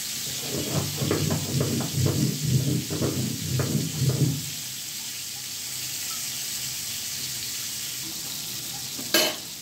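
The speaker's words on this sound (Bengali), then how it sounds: "তেলটা গরম হয়ে গেছে, আমি ভাজা দেব" Pieces of pangas fish coated in spices sizzling in hot oil in a home kitchen, with a rhythmic series of stirring and scraping strokes for about four seconds, then a steady quiet hiss and one sharp clink near the end.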